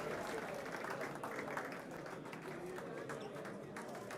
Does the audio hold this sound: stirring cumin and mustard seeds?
no